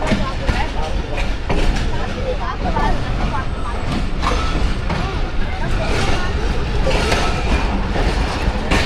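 The Shah Hussain Express passenger train, running from Karachi to Lahore, rumbles loudly and continuously along the rails, with rhythmic clatter filling the whole stretch and voices talking over it.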